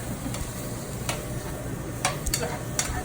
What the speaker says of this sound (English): I'm just kind of stirring it around.